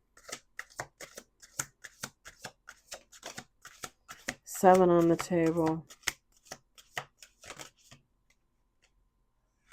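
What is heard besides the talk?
shuffling tarot cards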